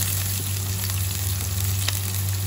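Onions frying in a pan with bagoong, shrimp paste, for kare-kare in an outdoor dirty kitchen, giving a steady, close, continuous sizzle with a constant low hum underneath and no talking.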